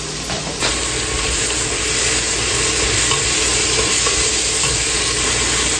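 Pork cubes sautéing for ginisang munggo give a steady, loud sizzle and hiss that runs the whole time with no pause, and a few faint stirring scrapes ride under the frying.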